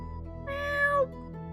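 A single cat meows once, a clear, drawn-out mid-length cry rising and falling, close and distinct over a faint steady hum.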